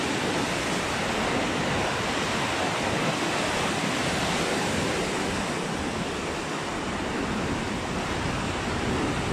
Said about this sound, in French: On sent le courant de l'eau qui passe en dessous de nos pieds